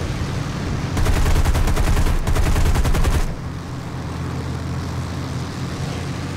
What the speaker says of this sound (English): I know I had to shoot at the leading marker